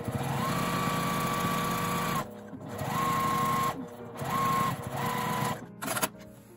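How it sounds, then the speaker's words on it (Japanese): A sewing machine runs edge stitching along the fabric of an A4 tote bag, in steady whirring bursts broken by short pauses, loud and close with no talk. "端ミシンをかけます。"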